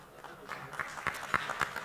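An awards ceremony audience claps to welcome the chief guest, soft scattered handclaps fairly distant and quiet, a few sharper claps standing out.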